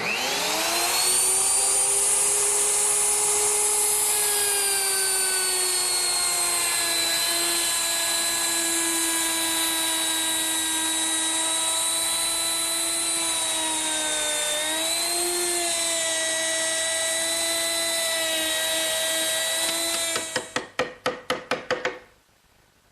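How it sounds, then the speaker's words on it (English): A router fitted with a 3/8 inch rabbeting bit plunges into a narrow wooden board and cuts slowly around it, sending out a loud, steady high whine that runs for about twenty seconds before spinning down in a few fading pulses. "I use my router with a 3/8 inch rabbeting bit. And I'll just plunge in and go around"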